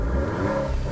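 A Maserati Grecale Trofeo engine gives a brief, deep, loud rumble as it revs.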